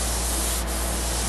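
Danish oil is rubbed by hand onto a woodturned crawfish platter, giving a soft, continuous, even rubbing hiss that lasts a moment.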